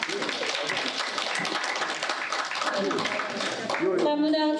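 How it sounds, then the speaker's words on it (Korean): An audience at a tea-culture academic conference applauds to welcome a lecturer. The clapping is full and continuous, then a voice begins speaking near the end as the applause carries on. "많은 박수로 환영해 주시기 바랍니다"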